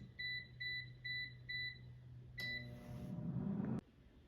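An air fryer signals the end of cooking with four evenly spaced electronic beeps, faint and close, then gives a louder tone and a short whirring rush before it goes quiet.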